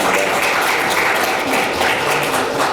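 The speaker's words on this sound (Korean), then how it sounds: "유일호 이사장님께 다시 한번 큰 박수 부탁드리겠습니다" Sustained audience applause fills a Korean think-tank policy forum hall, a dense, steady wash of many hands clapping at even loudness throughout with no break.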